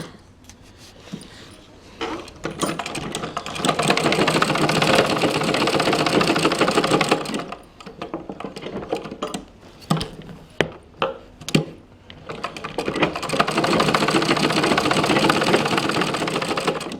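A sewing machine runs along the edges of a designer blouse piece in long steady whirring stretches, broken by a pause full of quick taps and clicks, then resumes, close and loud with no talk.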